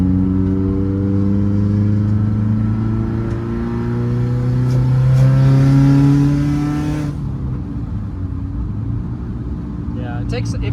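A 2015 Subaru WRX STI engine with a Stage 2+ tune revs up steadily, its pitch climbing and holding loud and close, then it cuts off abruptly, leaving a quiet idle.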